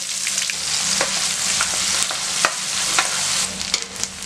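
About fifteen finely chopped small onions fry with curry leaves in a pan for puli kulambu, giving a loud, continuous sizzle broken by several brief clicks and scrapes of stirring, with no talk.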